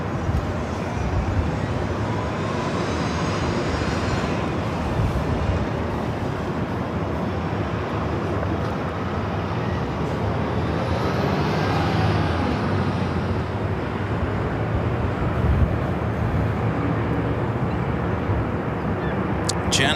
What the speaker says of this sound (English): Flight 7 coming in from London Heathrow.